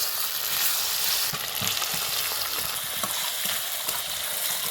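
Onion, garlic paste, ginger paste and tomato frying in a pan, a steady loud sizzle with soft stirring scrapes running throughout.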